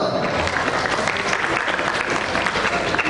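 Audience applause at an international school closing ceremony, steady dense clapping from a crowd filling the whole stretch, close and loud with no pauses.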